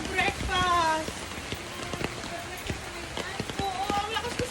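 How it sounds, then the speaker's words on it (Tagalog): Heavy rain falls at Sonya's Garden, a steady patter with sharp drops hitting hard surfaces, while people talk close by over the downpour. "Oo, ang lakas kasi ng ulan"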